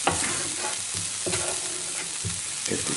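Chopped onion sizzles steadily in a frying pan while a spoon stirs and scrapes it in bursts, close and continuous, as the base for pan-cooked salmon with crème fraîche.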